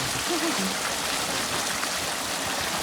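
Water runs through a farm channel in a steady, rushing gurgle, with a short murmur of a voice early on.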